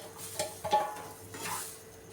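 Chopped bananas being stirred into roasted semolina in a pan for jaggery sheera, a soft scraping stir with faint sizzling and a couple of spoon knocks against the pan, close and quiet, no voices.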